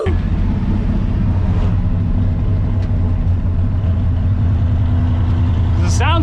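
A high-compression Ford F100 truck engine rumbles loudly and steadily through an on-board street drive, a deep, continuous roar with a brief rising rev near the end.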